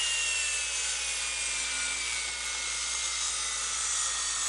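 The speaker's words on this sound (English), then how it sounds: "take the chainsaw and cut the rest of it" A chainsaw cuts through wood during a homestead cabin build, a steady high-pitched buzzing whine held close and loud without a break.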